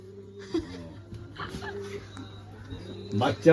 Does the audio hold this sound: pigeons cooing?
yes